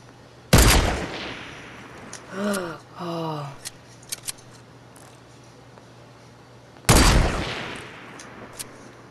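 Two sharp, loud gunshot bursts in Fortnite stand several seconds apart, with short clicks and a muffled voice-like sound in the gap between them against a low steady hum.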